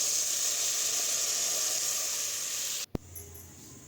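Sambar powder is stirred into a hot tempering of mustard seeds, curry leaves and onion, giving a steady bright sizzle that stops abruptly near the end, followed by a single clack and quieter frying.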